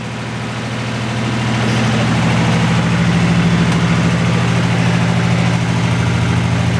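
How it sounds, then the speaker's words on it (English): A tractor engine idles nearby, swelling slightly at first, then holding a loud, steady, low throbbing rumble with a faint rhythmic vibration. "It's going to be shaky, one-handed tractor driving."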